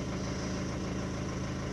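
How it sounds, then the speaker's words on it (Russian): A Mercedes-Benz Vito 115 engine idles smoothly and evenly, a steady close-up mechanical hum with no variation for a couple of seconds. "она сразу себе завелась, двигатель работает ровненько"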